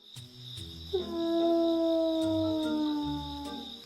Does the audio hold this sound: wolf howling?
yes